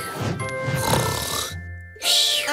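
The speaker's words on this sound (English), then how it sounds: "she must have left her snore behind" A cartoon character snores in a short, comic rhythm: a raspy, drawn-in snort, a brief pause, then a breathy exhale.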